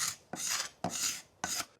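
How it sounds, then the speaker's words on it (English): Dried glue being scraped off a wooden board, three rough rasping strokes in quick succession, close and fairly quiet with no talking. "you can hear the glue being scraped off"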